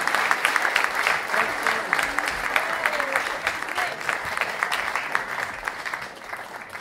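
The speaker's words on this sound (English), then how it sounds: "Extra round of applause for being completely on time." Warm applause fills the room at a book festival, a crowd clapping briskly and evenly, strong at first and gradually thinning toward the end, with a voice speaking faintly underneath for a moment.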